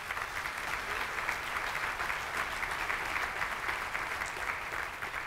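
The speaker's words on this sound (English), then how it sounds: "Let's give them a round of applause." An audience at a civic business event applauds steadily for a full round, a dense, even wash of clapping at moderate loudness with no talking over it.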